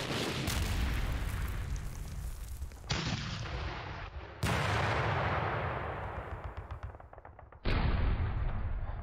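A gun firing at infantry in Panzer Battles North Africa 1941, three loud booming shots, each followed by a long rumbling decay, spaced a few seconds apart with no voices.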